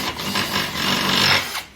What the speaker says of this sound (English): And I'll drill through